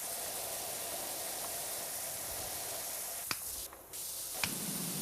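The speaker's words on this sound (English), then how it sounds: "let's get underneath here and spray this off" A pressure washer sprays in the PowerWash Simulator 2 video game, giving a steady, dense hiss that runs continuously, dips briefly and returns, with a couple of sharp clicks.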